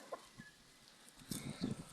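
A chicken clucks nearby in a few short bursts, with quieter scattered clucks beforehand against a calm background.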